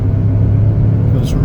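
A 2021 Chevrolet Equinox LS accelerating and shifting gears, heard as a steady low cabin rumble of engine and road noise that stays even and close throughout.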